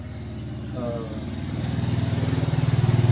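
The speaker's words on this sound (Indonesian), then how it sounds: "ada motor lewat" A motorcycle engine approaches with a rising, pulsing putter that grows louder toward the end, heard outdoors under a person speaking during an interview.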